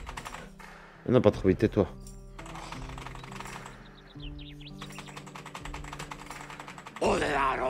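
A computer keyboard is typed on hard during a Prison Simulator game session, with bursts of fast, loud clicking keystrokes running under a man's speech and game sounds.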